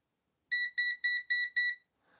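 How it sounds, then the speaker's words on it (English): A Venlab device gives five sharp, evenly spaced electronic beeps in a quick row, close and clear against silence, followed by a faint trailing sound. "Venlab beeping. When you were on too long, she beeps."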